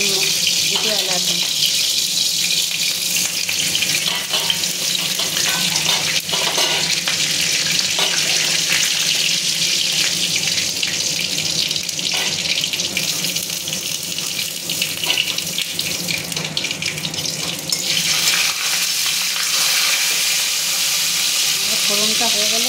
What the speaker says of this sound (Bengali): তেলটা গরম হলেই তাতে ফোড়ন দেব, তেজপাতা, শুকনো লঙ্কা আর জিরা, গরম দুটো এলাচ